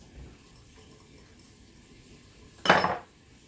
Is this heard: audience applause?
no